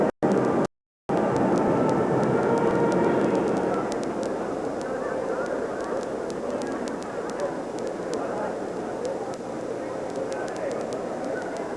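A military flight arriving at Loring Air Force Base in northern Maine: a loud, broad aircraft engine roar that swells early, then holds as a steady rumbling drone, with crowd noise and voices mixed in.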